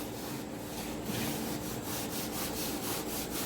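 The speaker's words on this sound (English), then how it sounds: "so I just scrub the top and then I scrub the bottom. Just making sure I haven't missed any rust." Steady, continuous scrubbing of rust from old metal furniture, a dense rough abrasive rubbing sound with regular back-and-forth strokes, close and loud, with no talking.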